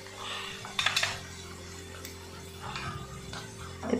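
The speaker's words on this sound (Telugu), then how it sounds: "ఇప్పుడు వీటిని మంచిగా కలుపుకుందాం." A metal spoon clinks and scrapes against a pan while ground spices are stirred into homemade egg pickle, a few sharp taps standing out over a quiet background hum.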